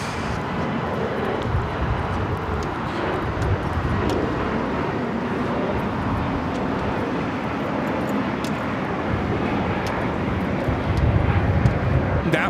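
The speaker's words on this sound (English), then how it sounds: "That was Spirit Airlines 489 taking off to Austin on the A320neo." A Spirit Airlines A320neo takes off at LAX with a broad, steady jet roar heard from a distance, swelling slightly toward the end over wind noise.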